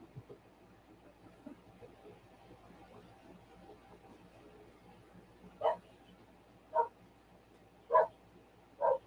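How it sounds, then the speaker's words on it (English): Four sharp barks from a distant dog ring out at roughly even intervals after a stretch of quiet, low background hum. "I hear Buddy barking."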